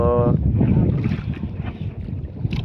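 Strong northeast monsoon wind at sea buffets the microphone on a fishing boat, a steady rumbling roar with a brief tonal hum at the start.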